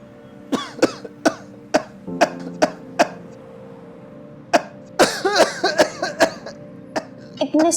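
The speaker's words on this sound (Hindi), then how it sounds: "अभी तक आपकी खांसी ठीक नहीं हुई।" An older man suffers a persistent chronic cough, about a dozen sharp coughs close by, first spaced in a steady rhythm, then bunching into a rough, throaty fit.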